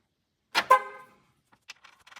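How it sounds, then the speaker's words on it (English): Two quick horn beeps from a 1999 Dodge Intrepid, loud and close, the second slightly longer, followed by faint clicks and handling noises. "as you heard there, the horn beeped"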